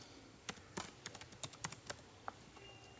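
Typing on a computer keyboard: a quiet, irregular run of light key clicks over faint background hiss, with no talk.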